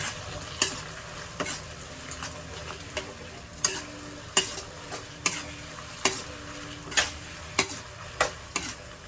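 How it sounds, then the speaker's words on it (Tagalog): A sauce seasoned with Knorr seasoning is stirred in a pan before squid goes in, giving a soft continuous sizzle with regular sharp scraping strokes of the spoon, roughly one each second. "Okay, nahaluin lang ulit."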